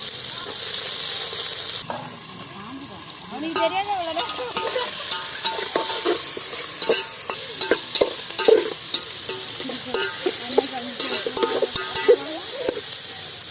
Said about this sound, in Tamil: நம்ம வந்து வெந்தயத்தை இப்போ சேர்த்துக்கலாம் அதில் வெங்காயத்தை போட்டுடலாம்